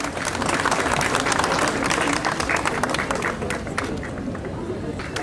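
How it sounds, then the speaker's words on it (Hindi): Audience applause at a World Cancer Day awareness event, a dense, steady wash of clapping from a large crowd lasting throughout and tapering slightly at the end. "जोरदार तालियां हो जाएं प्लीज."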